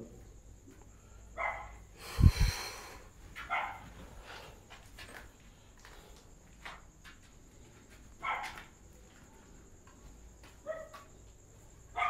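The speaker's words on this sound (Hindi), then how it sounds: "ये कुत्ते बहुत ज़्यादा भौंकते हैं" Several dogs bark at a distance in scattered single woofs and short yips across twelve seconds, one louder close burst early, over a faint steady electrical hum.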